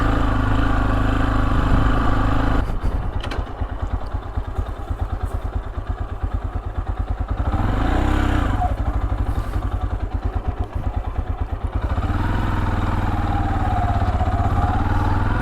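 A Chinese motorcycle rides through hunting grounds on the left bank of Kyiv region, its engine droning steadily and close throughout, with rattling clatter and thumps as it rolls over rough dirt tracks.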